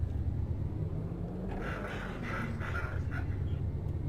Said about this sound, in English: listen to that bassy rumble